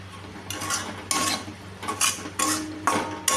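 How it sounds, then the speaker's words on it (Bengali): Egg chow mein tossed and stirred in a pan, with repeated bursts of utensil scraping and clattering against the metal at an uneven rhythm over a low steady hum. "এখন আমি এটাকে ভালো করে নাড়াচাড়া করে নেব।"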